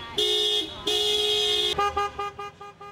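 Car horns at a drive-by car parade honor nursing home residents in Avon Lake, sounding in a long steady blare, a second sustained honk, then a string of short rhythmic toots, loud and close with no talking.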